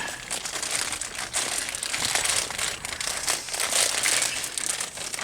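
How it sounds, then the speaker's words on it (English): Plastic bag of brake pads for a Jaguar X-Type being cut open, a continuous close crinkling and rustling of plastic with no talking. "Let's cut the bag open."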